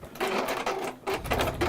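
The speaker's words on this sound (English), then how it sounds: "I have not used your sewing machine here before. Let's give this a go." A home sewing machine being tried out for the first time, stitching in short bursts with brief pauses between runs, heard close and fairly quiet.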